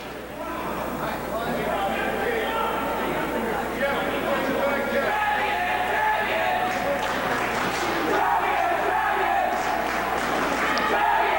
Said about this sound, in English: the Trevian faithful over here to our right, cheering their team on